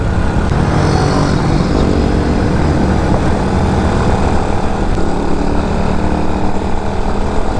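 An Xpro X7 UTV with a ZS190 motor running at high revs on a 35-mile loop ride, giving a steady, loud, unbroken engine drone with no gaps or shifts.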